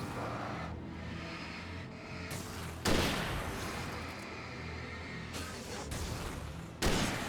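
In the Alan Wake video game, a hunting rifle fires several booming shots at irregular intervals, with the loudest blasts near the middle and end, over a dense background of game noise.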